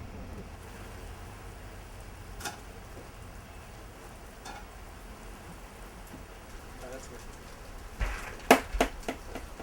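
Steady rain falls outdoors through a cooking session on a wet day, a continuous wash of drops with a few louder clatters and knocks toward the end.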